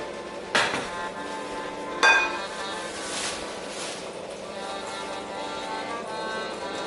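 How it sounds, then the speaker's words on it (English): Utensil scraping and clinking against a mixing bowl while melted chocolate mixture is stirred into muffin batter, with two sharp knocks early on followed by steady soft scraping, close and moderately loud. "We're going to add it in. And we're gonna give this a nice mix."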